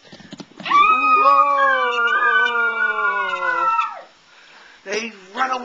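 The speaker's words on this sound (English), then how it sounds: "Here come the dogs!" A dog's long howl rises and holds for about three seconds before breaking off, followed by a few short yelping cries nearby.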